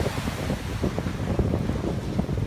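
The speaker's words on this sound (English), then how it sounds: "they went deep enough to get knocked down by these waves that are very strong right now" Strong ocean surf breaks along a Brooklyn shore during a winter blizzard, a continuous heavy roar of churning water mixed with gusty wind buffeting the microphone, loud and close with no voices.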